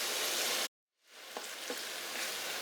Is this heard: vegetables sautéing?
yes